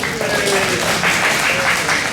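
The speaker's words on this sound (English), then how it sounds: "we all get applause" Party guests applauding at a 50th anniversary celebration, a short dense burst of clapping with someone speaking over it.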